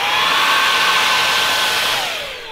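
A Dreame XR cordless stick vacuum cleaner runs loud and close with a steady high-pitched whine and rushing airflow, then the tone drops as it winds down near the end, with no talking.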